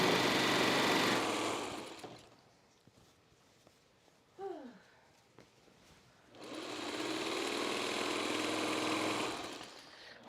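A sewing machine stitches a seam during a jelly roll race quilting session. It makes a loud, fast, steady whir for about two seconds, then goes quiet with a brief voice, then runs again for several seconds.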